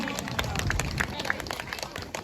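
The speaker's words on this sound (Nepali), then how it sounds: "जोरदार तालीले स्वागत गरिदिनुको लागि म यहाँलाई निवेदन टक्राउन चाहन्छु" Applause and clapping from a crowd welcoming the chief guest to the stage at a Sakela festival gathering, a steady dense patter of many hands continuing throughout, with crowd murmur beneath.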